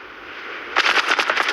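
Rapid automatic gunfire in a video game, a quick burst of about eight close, loud shots cutting in after a steady hiss-like background.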